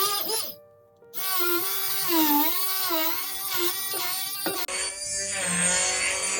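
An electric hand mixer beats a bourbon pie filling in a bowl, giving a close, steady motor whine that wavers in pitch as the beaters move, with a brief pause before it starts and a shift in tone near the end.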